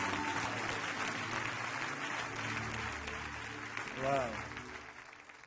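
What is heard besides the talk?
audience applause in church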